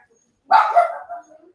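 Dogs let out a single close, sustained growling vocalization lasting about a second in an otherwise quiet room.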